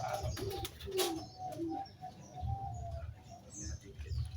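Pigeons cooing in a loft, soft low repeated coos and murmurs close by, with a few chirps and light wing movement, under quiet background chatter.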